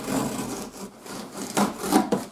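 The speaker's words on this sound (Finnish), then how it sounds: "Näin sahataan pahvilaatikko auki tästä nopeesti." A cardboard box is sawn open with a blade in quick, rough strokes, giving a close scraping rasp with several louder bursts toward the end and no talking.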